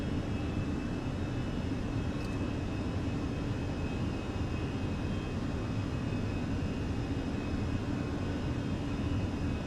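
Simulated Fenix A320 airliner engines in the MSFS2020 flight simulator, throttled back from takeoff to climb thrust, give a steady, loud broadband roar with a constant high whine, unbroken for the whole stretch and with no talking.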